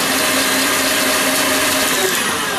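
A steady, loud electric mixer whirs continuously through chocolate cake batter made from a boxed mix, the motor drone holding an even pitch with no pauses or speech.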